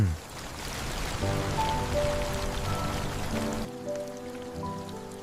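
Steady rain patters on surfaces in a constant broadband wash, with soft musical tones sustained underneath throughout.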